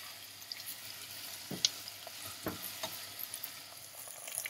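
Chicken pieces and onion sautéing gently over low heat in a pan, a steady soft sizzle with occasional sharper pops and stirring scrapes, close and continuous with no talking.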